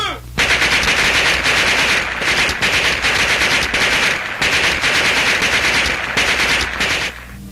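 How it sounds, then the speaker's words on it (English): Loud, sustained machine gun fire in a WWII film scene of prisoners being shot, a continuous rapid burst of shots with a couple of brief gaps, dominating the whole passage before cutting off. "Unarmed and defenseless American prisoners, comrades of these men, fell to the machine guns of our enemies."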